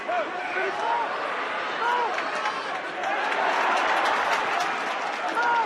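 A crowd roars after a big tackle at a schools rugby match between Rondebosch and Bishops, a loud, sustained wash of cheering and shouting that swells slightly and holds steady throughout.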